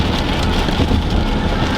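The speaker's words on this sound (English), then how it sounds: "we pushed through the rain" Heavy rain pours during a drive, a loud, constant hiss of water and road noise that holds steady throughout with no talking.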